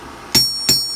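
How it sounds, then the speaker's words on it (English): A steel block used as an anvil is struck for a rebound test: two sharp, bright metallic rings with clear ringing tails, followed by a fainter third tap, close and with no talk. "I'm about to do the rebound test on it right now."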